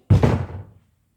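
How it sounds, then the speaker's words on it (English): A single solid thunk of a house door being pushed shut, close and fairly loud, with a short dull decay and nothing else around it. "can you close the door all the way"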